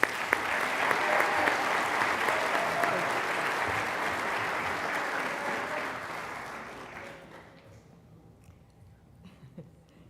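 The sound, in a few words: applause for students at awards ceremony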